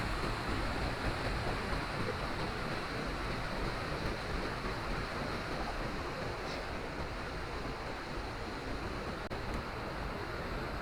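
Deschutes Falls waterfall, a dense, steady rush of falling water that fills the whole clip at an even level, loud and unbroken with no voices.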